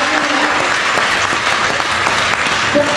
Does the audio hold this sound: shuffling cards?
no